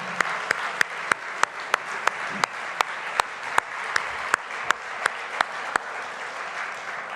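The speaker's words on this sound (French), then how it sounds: "On les applaudit." Audience applause at a gala awards evening honoring partners, steady clapping from a crowd in a hall with sharp periodic clicks cutting through the sound.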